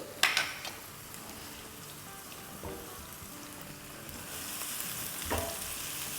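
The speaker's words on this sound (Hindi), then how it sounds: "इसे हमें ब्राउन नहीं करना है, बस हल्का सा सौटे करना है।" Crushed garlic and green chilies sautéing in a pan give a soft, steady sizzle, with a few clinks and stirring scrapes of a utensil against the pan.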